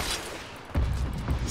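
Heavy booms and bursts of gunfire in the video game Just Cause 3 multiplayer, a low rumbling blast swelling up midway over a busy background of crackling fire.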